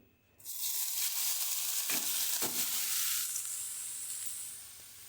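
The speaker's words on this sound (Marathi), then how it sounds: "तूप आपलं गरम झाले. मी हे गाजर किसलेलं टाकते याच्यामध्ये." Grated carrot dropped into hot ghee for gajar ka halwa, bursting into a loud, close, steady sizzle that fades slowly, with a couple of stirring scrapes and no talking.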